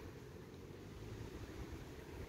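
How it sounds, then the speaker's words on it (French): Strong, cold wind blowing outdoors on a winter day, a steady loud roar and buffeting rumble that fills the whole stretch without pause, with no voices. "Aujourd'hui, il y a du vent de fou, il fait froid, la totale."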